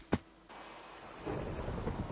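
A Minecraft thunderstorm opens with a sharp crack of thunder. Steady rain follows, swelling into a louder, rumbling downpour that continues to the end.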